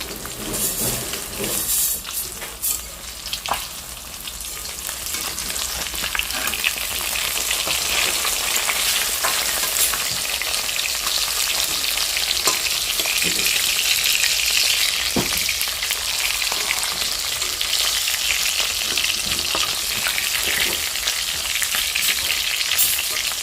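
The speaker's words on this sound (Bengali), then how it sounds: "এগুলো সব ভাজা করব ভাজা করে তারপরে ঝোলে দেব" Pieces of katla fish fry in hot oil, a close, constant hissing sizzle that grows fuller after the first few seconds, punctuated by scattered pops and occasional stirring.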